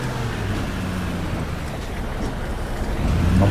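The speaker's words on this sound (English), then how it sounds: "I'm hoping that engine noise isn't too loud." Steady low drone of a coach engine in the bus-driving game Fernbus Simulator, a constant rumble with some wind-like hiss, running evenly throughout with a slight rise at the end.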